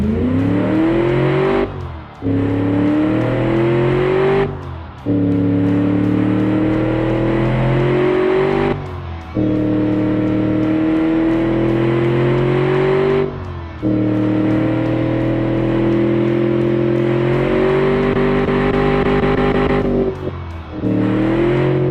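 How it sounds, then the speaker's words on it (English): A tuned V8 car engine revs hard in long, loud surges, briefly dropping between each climb, roaring close and alone. "the engine sounds really awesome"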